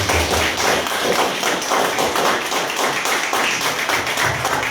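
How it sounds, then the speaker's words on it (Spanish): Dense, steady clapping from a church congress crowd fills the whole stretch, loud and continuous, with no voices standing out. "Dale un aplauso fuerte a Jesús."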